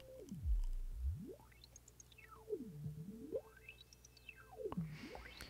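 A resonant biquad filter at a Q of 30 sweeps repeatedly up and down over a tone, updated once per sample buffer, rising and falling in steps rather than smoothly, about three slow sweeps with no voices.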